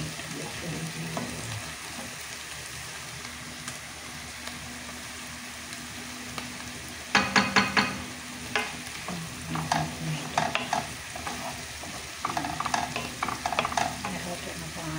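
Tomatoes for a meatless spaghetti sauce sizzle steadily in a pan, with soft frying underneath and a run of scraping stirs in the second half, close and moderately quiet, with no talking.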